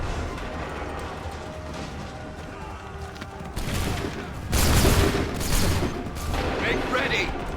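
Musket volley fire in the Assassin's Creed 3 Remastered video game on Xbox One, with a loud burst of gunfire cracks midway, followed by scattered shots and commotion under shouted voices.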